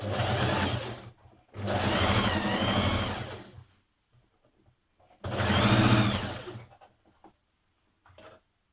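A sewing machine stitches a yoke onto a formal skirt in three close, loud bursts of rapid whirring, separated by quiet pauses and a few faint handling clicks.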